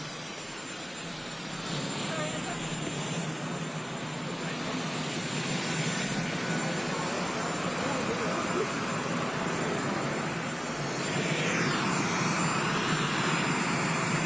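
Jet aircraft engines roar in a broad, steady wash for the whole stretch, rising slightly in the second half, with a whining pitch sweep near the end.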